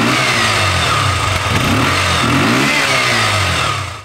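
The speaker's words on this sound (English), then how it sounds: "First, original exhaust." A KTM 125 Duke motorcycle on its original exhaust revs hard and continuously at close range, the engine note swelling and dipping with throttle blips before cutting off at the end, with no voices.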